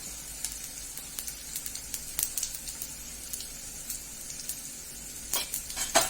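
Cumin seeds frying in hot oil in a pan for poha, a close, steady sizzle with scattered sharper crackles and pops, no voices over it.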